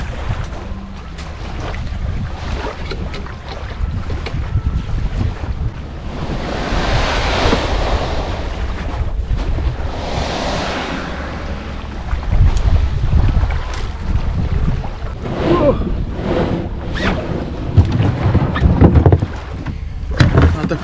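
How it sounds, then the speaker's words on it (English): Kayak paddling on Saguaro Lake, Arizona, on a loaded trip, with water lapping and sloshing around the hull, paddle splashes and gusting wind buffeting the microphone, moderately loud throughout. "we're going to be kayaking 5 miles to where we get to our destination"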